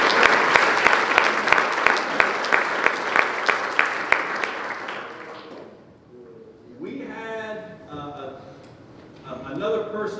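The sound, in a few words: audience applause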